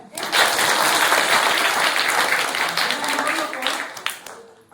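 A classroom audience claps for a student after a school science demonstration: a dense burst of applause swells quickly, holds for several seconds, then thins out and fades.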